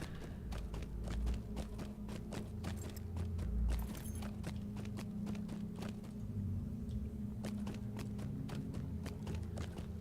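Goat mount hoofbeats in Lord of the Rings Online, a steady run of sharp clip-clop strikes over a low rumbling game background, fairly close and continuous without speech.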